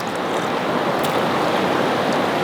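The Thethi river in the Albanian Alps flows with a steady, full rushing wash of water close by, continuous and loud with no voices over it.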